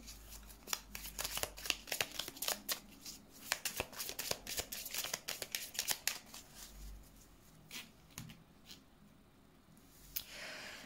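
Tarot cards being shuffled for a reading, a close run of quick crisp riffles and flicks in bursts, with quieter pauses between them.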